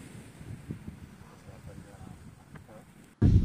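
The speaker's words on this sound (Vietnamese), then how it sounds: "ban đêm đấy, gió thổi rất là lạnh Và sát biển nữa cho nên là khá là lạnh" Cold night wind buffets the microphone at a seaside campsite in Kanagawa, a low rumbling gusting that rises and falls, ending in a sudden loud blast of wind noise.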